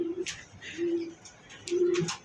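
Pigeons on a pigeon farm coo in three low, drawn-out phrases, close by, with soft fluttery rustles in between.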